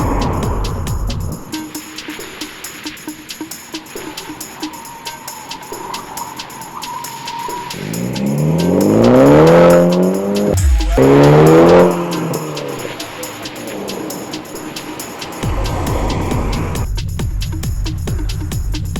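A Mini Cooper JCW with a manual gearbox and adaptive dampers drives a figure 8 in a parking lot, its engine revving and tires squealing loudly as it loads the front tires through the turns.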